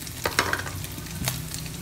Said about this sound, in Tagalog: Kaya pinapakuluan pa natin.